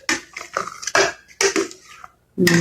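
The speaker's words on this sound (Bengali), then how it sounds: "তখন এটাকে আমরা এভাবে নাড়তে থাকতে হবে" Semolina being stirred in a pan for a suji dish, a series of sharp metallic scrapes and clinks of a utensil against the pan in uneven bursts with short pauses, close and fairly loud, no talking.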